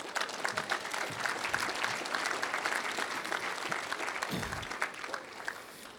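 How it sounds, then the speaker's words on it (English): An audience at a speech breaks into steady, dense applause, many hands clapping together for several seconds with a faint murmur underneath. "you can clap on that one."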